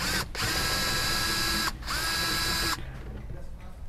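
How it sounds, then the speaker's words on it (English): A power tool whirs in three loud, steady bursts with brief pauses as it removes a 10 millimeter bolt on a 2022 Toyota Tundra during a roof rack light install. "So we'll go ahead and pop that 10 millimeter off right there."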